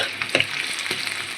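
Hilsa fish fries with chili and turmeric in a hot pan, giving a continuous close sizzle with a couple of brief stirring scrapes.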